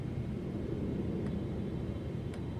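Landing gear extending on a 777 cargo airliner in Microsoft Flight Simulator 2024, a low steady rumble with a couple of faint brief clicks over the constant cockpit drone.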